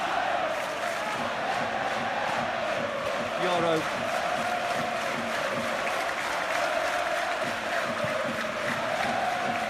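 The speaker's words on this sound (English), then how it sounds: "Crowd appreciates good football all round there." A stadium crowd in the PES 2021 football video game applauds and murmurs steadily, a dense continuous roar with faint chanting, while a commentator speaks over it.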